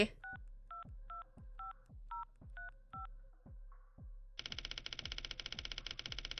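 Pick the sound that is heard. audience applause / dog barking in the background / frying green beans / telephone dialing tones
telephone dialing tones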